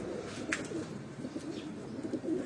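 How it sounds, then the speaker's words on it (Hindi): Pigeons on a Rawalpindi rooftop coo softly, with low murmuring calls repeating through a faint bird ambience and a brief higher chirp. "ये सारे कबूतर, कोई हरे कोई आगे मिस्से कबूतर"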